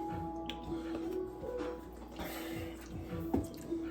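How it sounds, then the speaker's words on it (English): Buttermilk pours from a carton into a bowl for fried lobster tails, a soft, quiet liquid trickle with light drips over a low steady hum. "Okay, so we're gonna pour that up in there"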